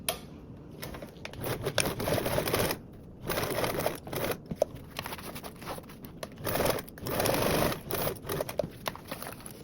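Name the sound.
sewing machine stitching a quarter-inch seam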